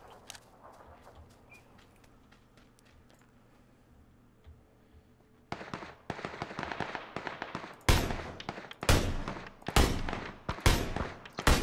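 Gunfire in the video game PUBG: a quiet stretch of faint ticking gives way to rapid bursts of shots, then several loud, sharp reports close by, with bursts continuing to the end.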